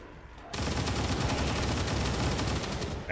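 Saturation fire from a heavy machine gun in XCOM 2 opens after a short quiet moment, a dense, continuous roar of rapid gunfire that stays loud and close until the end.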